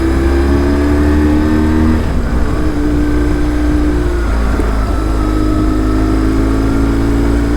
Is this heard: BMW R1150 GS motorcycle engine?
yes